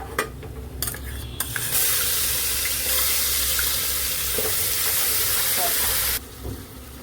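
Ginger garlic paste frying in a pan for egg biryani, a strong steady hiss and sizzle after a few scraping stirs, loud and close, cutting off sharply near the end.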